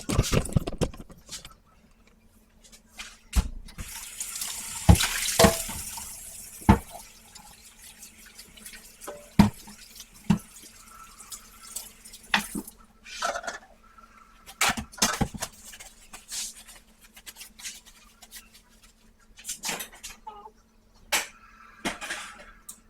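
A kitchen tap runs in bursts as hands are washed at the sink during meatloaf cooking, with splashes, drips and small clatters between spells of flowing water, close by and without talk.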